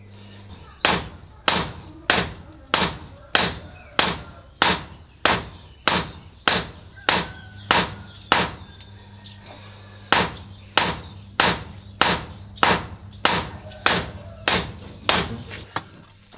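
Hand hammer striking metal being forged to lengthen and widen it, a steady series of about twenty sharp ringing blows in two runs with a brief pause between, loud and close with no talk.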